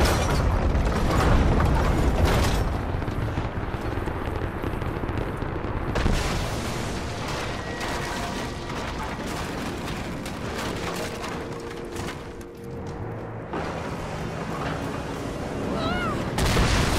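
Gunfire and explosive blasts in the video game Rise of the Tomb Raider, set in an ice tomb, form a dense, loud, continuous barrage of shots and booms with mechanical clatter and no talk.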